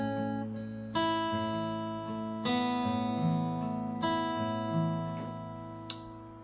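Acoustic guitar fingerpicked very slowly in a syncopated pattern, individual plucked notes and bass strings ringing out in a steady, unhurried rhythm, played alone and close, with a sharp click near the end.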